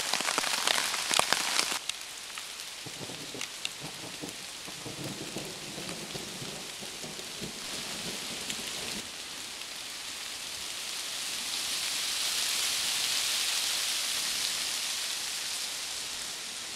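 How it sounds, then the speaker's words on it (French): Thunderstorm in the mountains over a steep-sided valley, with steady rain pattering on a surface and deep rolling thunder swelling and fading in the distance, heard alone for a long stretch. "C'est très impressionnant quand il y a de l'orage en montagne."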